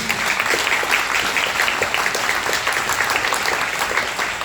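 Steady applause from an indoor audience, dense clapping that keeps up evenly throughout at a moderate level.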